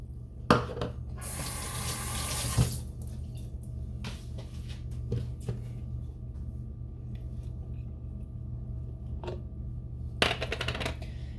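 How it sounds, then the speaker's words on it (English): Water from a tap runs into a mixing bowl holding ground beef and eggs, a steady close splash for about two seconds, then stops, leaving only faint kitchen clinks and a quiet hum. "Then add in 1 cup of water."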